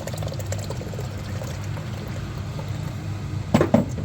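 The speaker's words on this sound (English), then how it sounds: "so you start adding the milk and warm water" Milk and warm water are poured into pasta with chopped meat for a Greek pastitsio: a soft, steady pouring trickle with a brief louder splash near the end.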